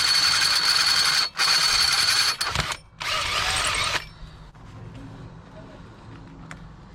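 A cordless power drill boring into a BMX bike frame, loud whining bursts that stop abruptly and restart, then a quieter stretch with faint mechanical handling noises.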